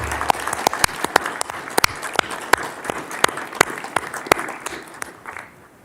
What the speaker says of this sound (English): I'd ask for just one round of applause for everybody that came today.